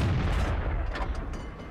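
A deep, booming tank cannon blast from an Object 140 in World of Tanks, with a heavy low rumble that rolls on and slowly fades.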